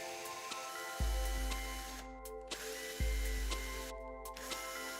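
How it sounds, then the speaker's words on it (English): A power drill pre-drills 3/32-inch pilot holes in a door, with two short whirring bursts about two seconds apart, each spinning up and winding down against a faint background hum. "Now let's pre-drill 3 32nd-inch pilot holes"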